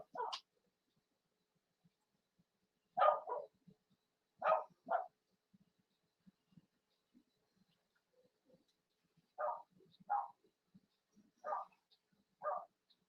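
A dog barks outdoors wanting to be let in, in clear paired barks spaced a second or two apart, repeated several times at moderate distance with quiet gaps between.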